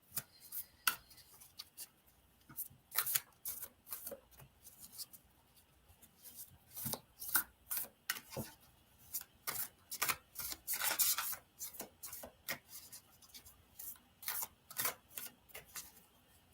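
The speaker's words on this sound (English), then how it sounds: "when I shuffle cards" Tarot or divination cards being shuffled by hand, a long run of quick crisp riffling and flicking bursts in an uneven rhythm, close and fairly quiet, with no talking over it.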